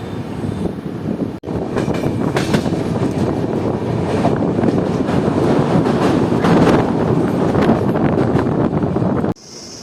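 The 13333 Dumka–Patna Express, an Indian Railways passenger train on a single-line track near Nonihat Bhaturia station, rumbles loud and steady from on board, with a constant clatter and wind rush and no talk.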